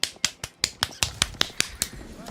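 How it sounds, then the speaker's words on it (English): Sharp, evenly spaced hand claps, about a dozen in a steady rhythm, close and crisp, heard during a livestream of an Age of Empires tournament review. "No, that was clapping, guys."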